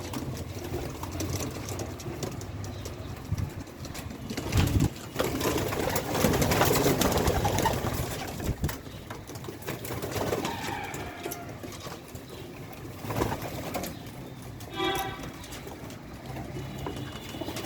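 Pigeons cooing softly amid a busy, noisy background with rustling and mechanical clatter, the calls low and intermittent.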